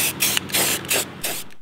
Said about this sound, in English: and spray down all of the headlight.